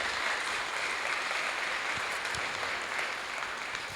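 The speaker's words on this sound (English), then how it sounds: "a very big round of applause, Steph, for all of your work." An audience at a Queensland Government procurement event breaks into sustained, even applause, a dense wash of clapping held steady and moderately loud throughout, with no voices on top.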